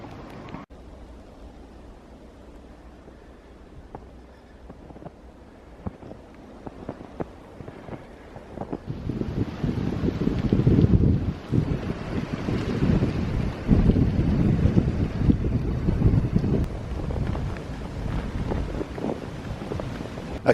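Strong wind drives sleety snow across an exposed Cotswolds hilltop, building into loud, roaring microphone buffeting after a quieter start and gusting unevenly throughout, with no voices.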